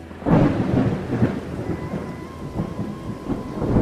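Heavy monsoon rain pours steadily during a thunderstorm in Chennai, with deep rolling thunder rumbling throughout, loud and close, with no voices.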